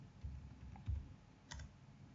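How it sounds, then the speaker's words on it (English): A few faint keystrokes on a computer keyboard, typed sparsely over about two seconds in a quiet room, with no speech. "So let's type MySQL."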